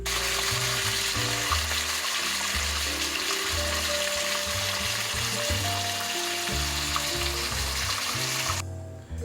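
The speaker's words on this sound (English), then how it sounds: "this is the beautiful sizzle sound that you want to hear" Loud, steady sizzling and crackling of a chuck roast searing in a hot pot carries on without a break, with low clunks underneath.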